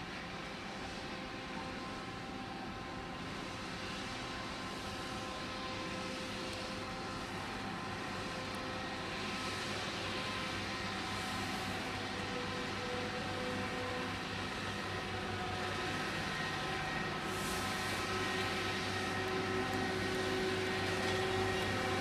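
Network Rail stoneblower track maintenance train passing through Doncaster station, a steady loud drone and rumble that holds evenly throughout with a faint tonal whine, no voices.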